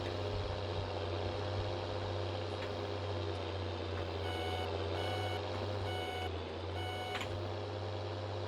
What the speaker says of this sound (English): Believe it or not, that was the indicator sound.